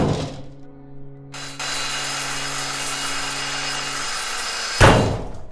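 Grinding of a ship hull in the video game Ship Graveyard Simulator 2: a steady, harsh power-tool drone kicks in after a low hum and runs continuously, ending in a louder burst, with no talk.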